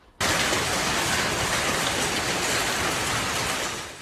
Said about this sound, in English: The wind blowing rain and hail into this apartment hallway.